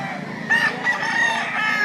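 A rooster for sale, praised as a handsome, home-raised bird with very fine feathers, crows in one loud, close, drawn-out call that rises midway and holds steady to the end.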